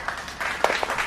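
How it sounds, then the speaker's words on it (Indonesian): A small audience at a children's immunization event gives a short burst of applause for Bu Lulu, with a few distinct hand claps popping over a soft background murmur in about a second of sound. "kita kasih ya tepuk tangan dulu ya untuk Bu Lulu"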